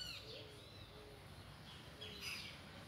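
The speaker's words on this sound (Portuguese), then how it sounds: "É o bosque que tem vários pássaros, eles cantam, que é uma beleza." Several birds chirp and call intermittently in a wooded park in Dracena, Brazil, with flamboyant trees in bloom; the thin calls sound fairly distant and faint over a steady low ambient rumble.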